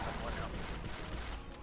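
Dense, continuous gunfire in the Star Wars: Republic Commando shooter game, a steady wash of rapid blaster and rifle shots throughout, with voices talking over it.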